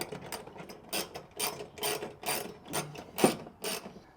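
A ratchet wrench tightening bolts on a Unistrut bedrail on a Ford F150 truck bed, close by, in a quick run of about eight rhythmic clicking, rasping strokes with short pauses between them.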